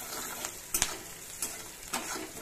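Vegetables frying for oats khichdi, with a soft continuous sizzle in a pan punctuated by several scraping stirs of a spoon at an irregular rhythm, close and fairly quiet, no voices.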